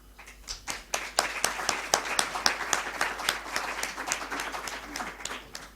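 A small audience at a literary reading event claps, starting with a few scattered hands, swelling to steady applause, then tapering slightly, fairly close and clear.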